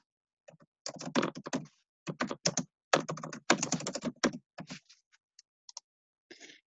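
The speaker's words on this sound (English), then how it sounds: "If I can type his name." Typing on a computer keyboard while entering a name, a quick uneven patter of close, crisp key clicks in short bursts separated by pauses, with no talk.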